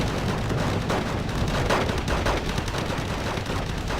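An AH-7 attack helicopter fires rockets amid heavy gunfire in the real-time strategy game Wargame: Red Dragon, a dense, continuous barrage of rapid shots and blasts, loud and close.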